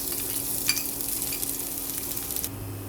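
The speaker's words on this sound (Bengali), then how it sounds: "প্রথমে তেল গরম করে আমি পেঁয়াজগুলো ভেজে নেব।" Chopped onions fry in hot oil with a steady close sizzle and occasional stirring scrapes, the first step of a Bengali sweet-and-sour mango khatta, with no voices over it.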